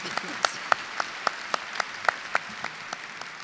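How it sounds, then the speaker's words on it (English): Applause at a Carlson School graduate commencement ceremony, heard as distinct sharp claps spaced at a steady rhythm over a quiet, reverberant hall, sounding like a few hands near the microphone against a fainter crowd. "I'd just like to give you a round of applause."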